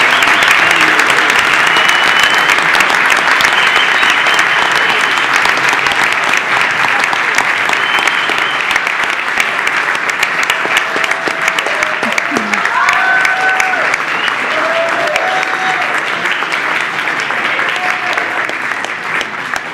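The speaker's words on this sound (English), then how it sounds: "Please join me in a round of applause for these exceptional students and their advisors." Sustained applause from a large crowd, dense steady clapping filling the whole stretch with a few faint voices mixed in.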